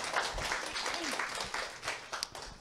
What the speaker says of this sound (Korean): 감사의 박수